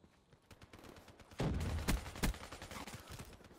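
AK74-U gunfire in a shooter video game, a few sharp shots cracking out amid a short burst of louder firing, fairly quiet overall with faint background game noise.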